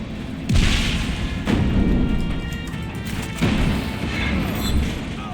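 Explosions in Just Cause 3, several deep booms landing about a second apart over a constant loud rumble of game noise with debris crackle, no speech over them.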